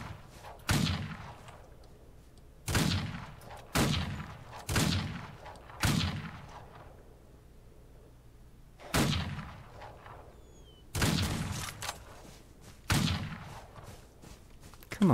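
Gunshots ring out in a Wild West video game, about eight sharp, loud reports spaced irregularly a second or two apart, each with a short echoing tail over quiet background.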